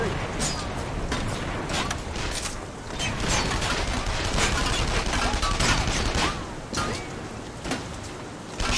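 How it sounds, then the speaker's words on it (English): Dense gunfire erupts during a jailbreak mission in the 2009 video game The Saboteur, a steady barrage of overlapping shots with clanks and shouting voices mixed in, loud and continuous throughout. "Shite! Gunfire!"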